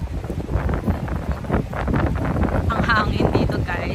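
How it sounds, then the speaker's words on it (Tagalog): Cold wind at Bondi Beach gusts against the microphone in a low, rushing roar while people talk over it. "Ang hangin dito guys."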